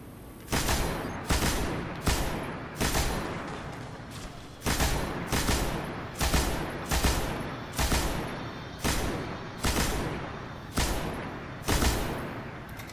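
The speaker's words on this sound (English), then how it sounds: "He's firing missiles." Enemy missile fire in the video game Destiny: a long run of loud, sharp blasts in evenly spaced bursts, about a dozen impacts, with no talk over them.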